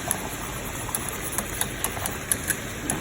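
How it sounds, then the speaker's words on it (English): A whisk works through a bubbling sauce in a pan on a stovetop, giving faint, quick, evenly spaced metallic clicks over a low steady hum. "I'll grab our whisk and we'll whisk it around."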